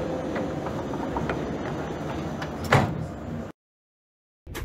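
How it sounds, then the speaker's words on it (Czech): Doors of a Prague metro 81-71M train close with a loud thudding slam after steady train and platform rumble, followed by a brief silence before the noise returns. "Dveře se zavírají."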